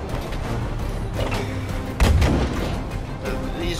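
Tank cannons fire in a Battlefield shooter, heavy booms over continuous battle noise, with one especially loud, deep blast near the middle and more thudding shots around it.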